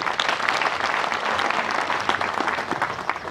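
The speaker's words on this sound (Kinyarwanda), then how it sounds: "Nabo nasamuha amashyi cyane." Steady applause from an audience at a 25th anniversary celebration of Urwego Bank, dense and continuous clapping filling the whole stretch at moderate level.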